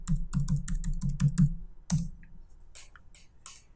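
Typing a server password on a computer keyboard, a close, rapid run of crisp keystrokes that pauses, then a firm key press and a few scattered lighter clicks, with no talking.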